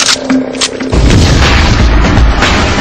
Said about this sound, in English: Claymore mine.